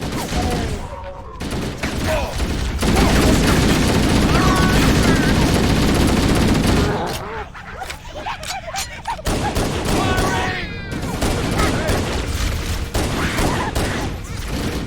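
Sustained covering gunfire in Halo: Combat Evolved, a dense loud fusillade of rapid automatic shots for several seconds, then sparser bursts and battle noise with voices shouting over the fighting.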